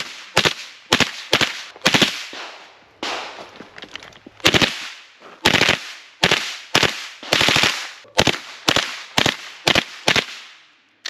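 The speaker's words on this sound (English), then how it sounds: "I even threw this thing on an MP5 and took it to a match." A 9mm MP5 with a B&T Vers36 suppressor fires at a shooting match in sharp suppressed reports, mostly singles and doubles in an irregular rhythm. There is a short rapid burst near the middle, close and loud, and nobody speaks.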